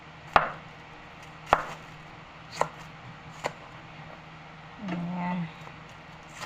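Knife slicing ingredients for sinigang na baboy on a cutting board, four sharp separate chops about a second apart, followed by a short low scraping sound, close and clear with no talk.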